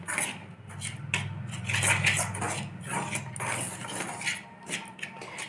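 Dhokla batter and ginger paste are stirred steadily in a bowl, making a continuous close-up run of metallic spoon scraping and clinking with a soft, wet churning underneath.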